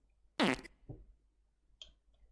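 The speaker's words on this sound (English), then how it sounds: "It's not a bad fart" A fart sound effect: one loud, wet, sputtering burst near the start, then a softer low rumble and a short faint blip later, with quiet between.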